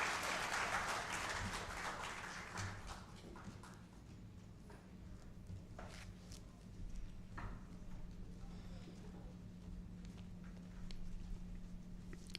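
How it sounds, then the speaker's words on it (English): Applause from the audience at a kidney research charity awards night, a dense burst of clapping at the start that thins into scattered claps, with voices and room hum underneath. "A big round of applause to Mr. Guru Rajan."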